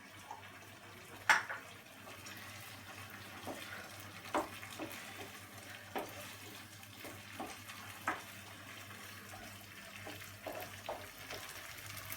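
Dishes and utensils being set into a kitchen sink while cooking, heard as scattered light clinks and knocks at an irregular pace over a steady low hum and faint running water.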